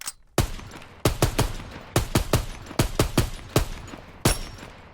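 Gewehr 43 semi-automatic rifle in a World War II Call of Duty game, firing a rapid string of about a dozen sharp, loud shots in quick uneven bursts with short pauses between groups.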